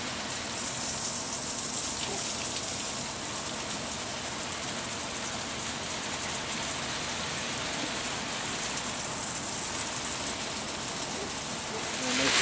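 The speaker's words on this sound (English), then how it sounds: "If I hear it hitting the tarp, I know I'm going far enough." Garden watering spray hisses steadily onto plants and a tarp in a vegetable patch, a close, continuous wash of patter with no pauses.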